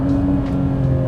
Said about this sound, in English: the exhaust note in this car really does sound good